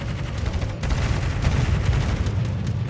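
Naval gunfire from a Gearing-class destroyer in a warship video game, with a dense, continuous rumble of booming shots and explosions, loud and heavy throughout.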